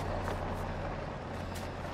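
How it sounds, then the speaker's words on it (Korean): Low engine rumble of a vehicle in the horror game INSIDE, a steady drone with faint hissy bursts, fairly loud and continuous without speech. "차 소리 나는데?"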